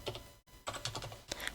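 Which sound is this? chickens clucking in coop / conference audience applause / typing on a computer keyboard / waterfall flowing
typing on a computer keyboard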